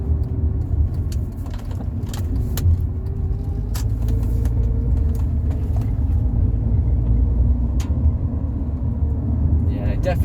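A Rover 45 Impression S3 with a CVT gearbox drives along, its engine and road noise a steady low rumble close by, with occasional light rattles and clicks, and a person talking over it.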